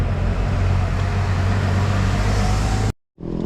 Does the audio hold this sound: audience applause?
no